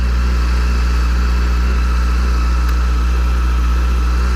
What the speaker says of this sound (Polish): cotygodniowe takie 10-15 minut przepalanie motocykla